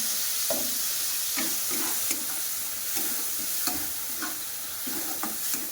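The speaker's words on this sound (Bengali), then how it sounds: "মাছগুলোকে উল্টে দিলাম, হালকা করে ভাজবো" Fish fried in a pan with mustard paste gives a steady close sizzle, broken by repeated stirring and scraping strokes that land about every half second to a second.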